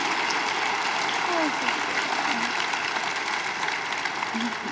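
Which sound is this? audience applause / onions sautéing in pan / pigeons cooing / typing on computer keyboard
audience applause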